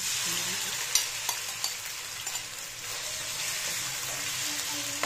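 Marinated chicken fries in hot oil with a constant bright sizzle, broken by a few sharp clinks and scrapes as it is stirred in the pan.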